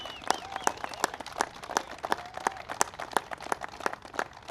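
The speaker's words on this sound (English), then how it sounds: "That's worth a big round of applause" A crowd gives a round of applause at an official event marking the 10,000th Recovery Act project launch: sharp, distinct claps ring out at a brisk uneven rhythm, moderately close, with a faint tonal hum beneath.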